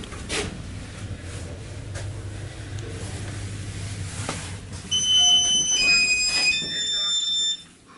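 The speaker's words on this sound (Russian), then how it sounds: "Очень странный информатор с пищалкой." A KMZ Sirius passenger elevator from 2023 with an unusual announcer unit sounds a series of high electronic beeps in its final seconds, following a steady low cabin hum with faint background murmur.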